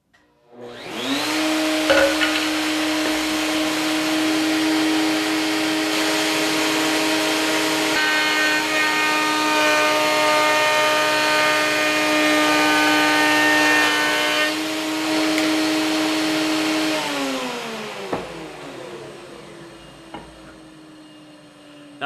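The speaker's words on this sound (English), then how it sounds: "Make the first cut with your molding bit at a low setting" A router on a router table spins up to a loud steady whine and carves a crown molding profile with a molding bit for about fifteen seconds, then winds down and coasts to a stop.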